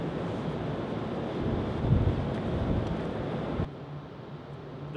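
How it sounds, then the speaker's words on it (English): Wind buffeting a microphone on the roof of a 40-story building, a loud, rumbling gusty roar that eases somewhat toward the end, with no voices. "It's getting pretty windy."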